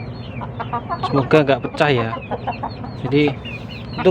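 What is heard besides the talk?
chicken clucking while pecking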